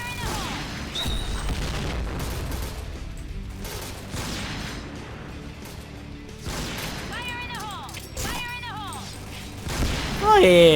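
Repeated explosions and gunfire from the Point Blank shooter game, with booming blasts and rattling bursts throughout, under a player's excited talk.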